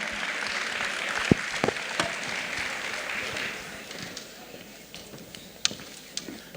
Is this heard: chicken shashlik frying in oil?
no